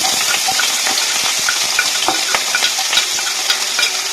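Whole spices such as cardamom and cinnamon fry with chopped onion and chili in a pan for a green banana dish, a loud dense sizzle close by with scattered clinks of stirring and no talking.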